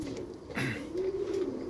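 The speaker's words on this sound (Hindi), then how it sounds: "बहुत ही बेहतरीन बदन के ये कबूतर और कबूतरी हैं" Madrasi black pigeons, a male and female pair, give a soft low coo close by, a brief rounded murmur that swells mid-clip over a steady background hiss.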